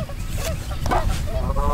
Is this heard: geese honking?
yes